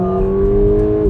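A first- or second-generation VW Golf GTI accelerating, its engine a loud, steady rising drone heard close from inside the car in a brief burst.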